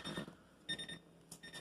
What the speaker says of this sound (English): we got our alarm is on over here